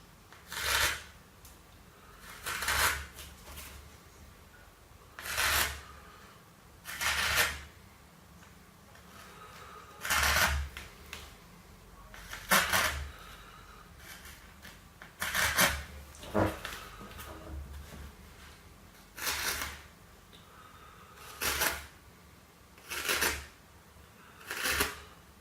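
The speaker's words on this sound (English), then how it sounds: "we'll smooth the tape out along the flat side and repeat the process down the wing seat, doing vertical slices" Tape is rubbed smooth and sliced along the flat side and wing seat of a model sailplane fuselage, a sequence of about a dozen short, close rasping strokes separated by brief pauses.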